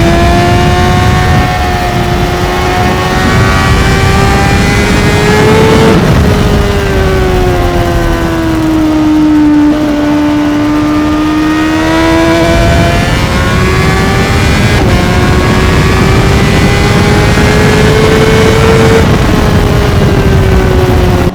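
A Honda CBR600RR sport motorcycle ridden on twisty roads, its engine loud and close throughout, pitch rising and falling smoothly as the revs climb and ease through the bends, with wind rush beneath and no speech.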